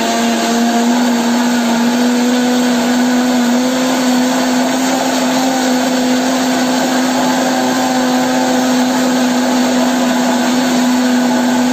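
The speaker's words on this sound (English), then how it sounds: "Then I'm just going to blend." Countertop blender running steadily with coconut and water inside, a loud continuous whir with a strong motor hum that holds even throughout, with no voices over it.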